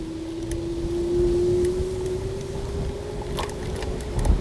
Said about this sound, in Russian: Двигатель воет, но все-таки вывозит меня 70-килограммового.